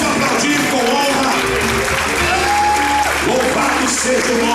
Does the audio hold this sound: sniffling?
no